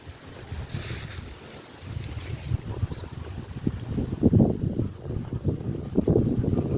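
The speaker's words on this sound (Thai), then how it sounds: "ลมแรงเหมือนกันครับ" Strong wind buffets the microphone with a steady low rumble and gusts that swell toward the end, with faint water sounds beneath.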